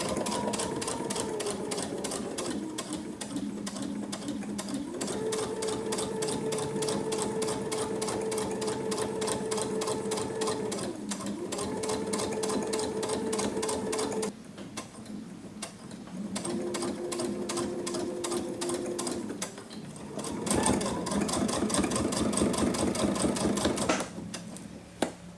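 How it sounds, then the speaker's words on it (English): A sewing machine runs a straight stitch at the half-inch mark through thick layered fabric, a steady loud mechanical whir with a few brief pauses and speed changes. "I'll go ahead and do a straight stitch through."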